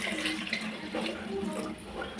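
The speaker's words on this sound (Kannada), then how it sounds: "ನೋಡಿ, ನೀರು ಹಾಕೋತಾ ಇದ್ದೀನಿ." Water pours from a vessel into a cooking pot of sambar ingredients, a close splashing and gurgling that runs for a couple of seconds with no talk.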